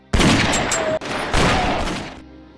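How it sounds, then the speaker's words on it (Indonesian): Sustained gunfire exchange from an action film: dense, loud volleys of shots in two bursts separated by a brief break, then cutting off abruptly into quiet. "Nicholas dan Billy saling beradu tembak"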